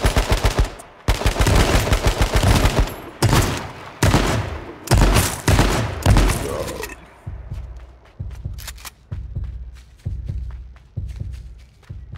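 Shotgun blasts in a video game: loud, heavy booming shots in close succession, then a series of quieter, evenly spaced reports fading toward the end.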